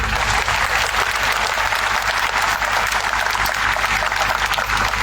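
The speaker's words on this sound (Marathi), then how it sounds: "काय उत्स्फूर्त प्रतिक्रिया त्यांनी टाळ्या वाजून या ठिकाणी दिल्या" Children clapping together at an event in Beed, a dense, steady burst of applause that carries on unbroken and fairly loud, with no voices rising above it.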